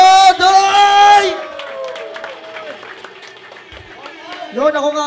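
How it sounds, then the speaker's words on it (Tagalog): Crowd applause and cheering swell at a live Filipino rap battle event, loud and dense at first, then thinning into scattered shouts and whoops with voices calling over the noise. "Aking pong inihingay ang malakas na palakpakan at sigawan ng bahay Godoy"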